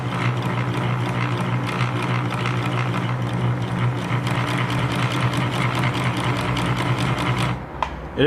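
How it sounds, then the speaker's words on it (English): A Fashion Touch 1036 sewing machine stitches forward in a fast, steady mechanical chatter of needle and gears, loud and continuous until it stops abruptly near the end. "Yep, it's stitching forward."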